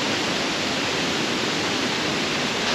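Four waterfalls in North Bali pouring into a single river, a dense, continuous rushing roar of falling water, loud and close, steady with no pauses and no voices.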